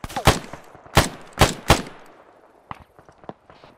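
Machine gun fire in a military video game, four sharp close bursts in quick succession followed by fainter, more distant shots trailing off.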